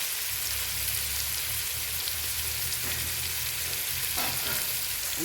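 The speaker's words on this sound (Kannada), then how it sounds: "ಹಾಗಾಗಿ ನಾನೀಗ ಹುಣಸೆ ಹುಳಿನ ನಾನು ಅದರೊಳಗಡೆ ಹಾಕ್ತಾಯಿದ್ದೀನಿ" Tamarind extract hits a hot pan of avalakki upma in a village kitchen, giving a steady, close, broadband sizzle that hisses on without pause, with no talking.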